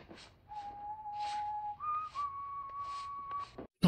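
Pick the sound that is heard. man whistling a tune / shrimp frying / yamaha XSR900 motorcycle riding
man whistling a tune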